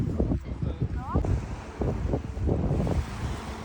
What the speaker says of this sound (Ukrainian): Ну що, справжнє море. Зараз, звісно, холодне